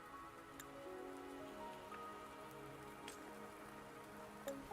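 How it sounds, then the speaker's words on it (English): Soft, steady rain falling in the video game Wuthering Waves, faint and continuous with scattered drop ticks over a low ambient musical hum. "Don't worry, the rain won't last much longer."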